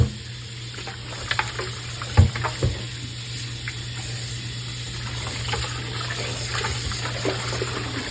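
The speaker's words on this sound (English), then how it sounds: "I don't know if it's the nut or what, but I'm gonna wash it one more time." Nuts being washed by hand in a bowl of water while preparing light soup, giving a steady wet sloshing and rubbing with a few louder splashes near the start, close and without talk.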